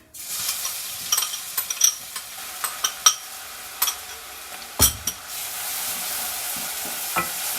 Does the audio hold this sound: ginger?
yes